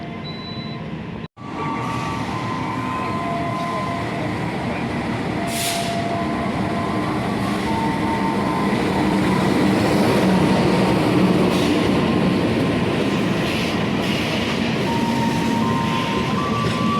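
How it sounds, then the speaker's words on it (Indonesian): The Malabar passenger train in Indonesia rumbles steadily past, the broad roar of wheels and carriages building slightly louder over the span, with a brief dropout near the start. "Oh, kereta Malabar."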